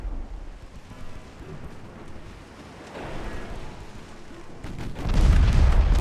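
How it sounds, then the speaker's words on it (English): Torpedo hits on an enemy ship in a naval strategy game: a low rumbling boom swells near the middle, and a heavier, louder blast with a crashing burst closes the stretch, all over a steady background of rumble and surf-like noise. "So my 2 torpedoes hit them"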